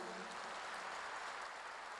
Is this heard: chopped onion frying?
no